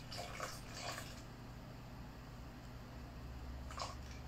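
Water poured onto gelatin to hydrate it, a few short, faint splashy bursts of liquid near the start and again near the end, alone without talk.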